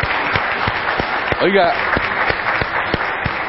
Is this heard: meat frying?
no